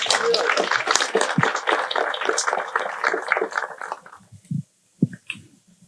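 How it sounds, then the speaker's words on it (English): A studio audience gives a round of applause for Reggie Carter of the Department of Children and Family Services: dense, close clapping that runs steadily for about four seconds, then thins out and fades to a few scattered claps. "Ladies and gentlemen, nice round of applause,"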